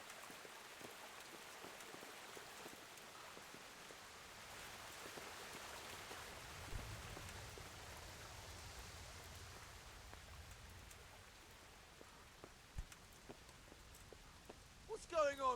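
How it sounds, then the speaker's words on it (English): Rain falls steadily in the medieval video game Kingdom Come: Deliverance, a soft, even patter of drops on surfaces, faint and continuous, with a few louder knocks and a brief sharp sound at the end. "Oh, it's raining, so I'll make no sound."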